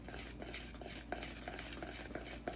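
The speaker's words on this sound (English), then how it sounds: "We'll try whisking and see what happens." A whisk works dumpling batter in a bowl for a chicken and dumplings casserole, giving a faint, steady scraping swirl with soft clicks against the bowl, up close.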